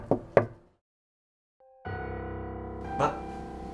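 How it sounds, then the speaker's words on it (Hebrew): Two quick knocks land on a door, sharp and close, followed by silence and then a sustained tonal hum. "ולפתע, דפיקה בדלת."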